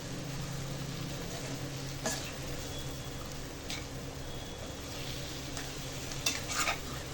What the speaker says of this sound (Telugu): ఆ శనగలను అయితే ఈ ఉడుకుతున్న టమాటాలో వేసేయాలి. బాగా కలిపేసి ఇంకొక 2 మినిట్స్ అలా మూత పెట్టాలి.